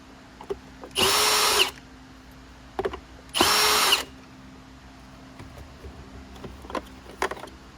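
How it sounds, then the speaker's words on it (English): A power drill backs screws out of the plastic housing of a Bissell PowerForce Helix vacuum, whirring in two short loud bursts about two seconds apart, with quiet handling clicks in between and no talk. "On both sides you'll have these caps, two screws, and they'll come off."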